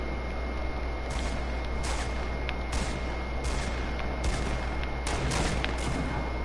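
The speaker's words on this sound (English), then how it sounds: "I'm hearing the gunshots" Video game battle royale gunfire, a series of sharp shots at irregular intervals, some in quick pairs, over a constant hum and steady background drone, with no talking.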